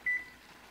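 A single short electronic beep from a kitchen timer being set during dumpling cooking, clear and fairly close against a quiet room hum, then silence.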